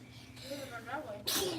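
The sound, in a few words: sneeze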